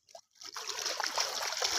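Water rushes and gurgles over a weir in a steady, hissing flow after a brief quiet start, heard from a short distance with no voices.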